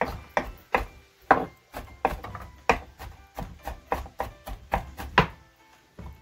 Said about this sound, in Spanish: Sigo picando.